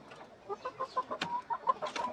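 Chickens cluck in short repeated bursts with occasional sharper calls, moderately close, alone without talk.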